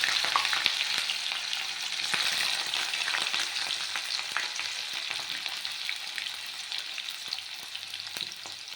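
Ginger and garlic crackle and sizzle in hot oil in a wok for egg tadka, a dense, continuous spitting with faint stirring, heard up close.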